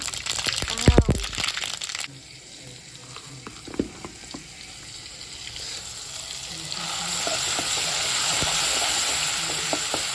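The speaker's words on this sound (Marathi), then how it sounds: "तेल झालं गरम ते डाळी टाकली, जिरं टाकते." Dal and cumin seeds drop into hot oil in a pan for an eggplant dish, with clattering pours and stirring at first, then a steady sizzle that builds and holds close by.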